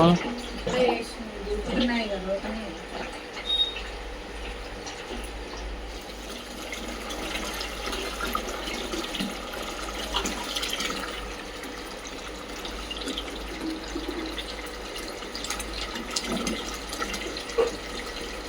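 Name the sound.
water filling bottles from a tap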